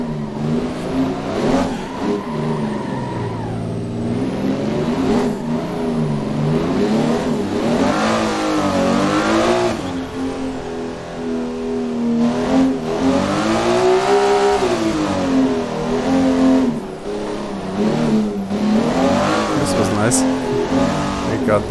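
A Nissan S15 drift car at the Bikernieki track revs hard and repeatedly, engine pitch climbing and dropping in surges as throttle is blipped, with a voice speaking over the engine noise.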